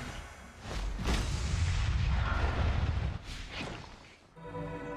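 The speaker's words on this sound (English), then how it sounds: "Our turret has been destroyed!" Explosive blasts and booming artillery-like fire as a turret is destroyed in a video game match, a loud, dense rumble of impacts that eases off toward the end.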